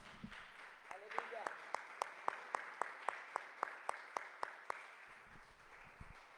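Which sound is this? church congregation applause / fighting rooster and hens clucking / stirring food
church congregation applause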